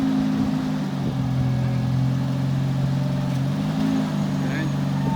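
A JLG 40RTS rough-terrain scissor lift's engine runs steadily up close as its wheels are turned, a loud continuous drone with slight shifts in pitch and people speaking nearby.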